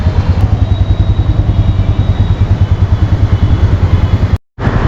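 A fully loaded touring motorcycle idles nearby with a steady, loud, thumping low rumble that cuts out abruptly near the end.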